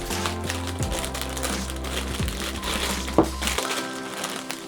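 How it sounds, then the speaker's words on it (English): Plastic bag crinkling and crackling close by as a vintage My Little Pony toy is handled, with a sharp crunchy snap partway through over a low steady hum. "In a plastic bag, that's why it's so noisy."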